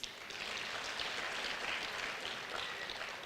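Delegates at a national conference on the criminal justice system applaud together, a soft but continuous wash of many hands clapping that holds evenly throughout.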